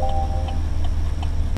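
Turn signal relay on a Chevy Silverado pickup ticking steadily at an even pace, four or five close clicks over the low idle of the running truck.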